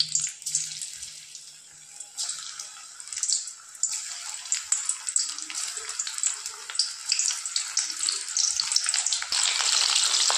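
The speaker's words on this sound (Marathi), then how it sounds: "आता हे पूर्ण सोयाबीन आपल्याला मीडियम फ्लेमवरती फ्राय करून घ्यायची आहे" Coated soybean chunks fry in hot oil over a medium flame, producing a hissy, crackling sizzle that starts faint and grows denser and louder toward the end.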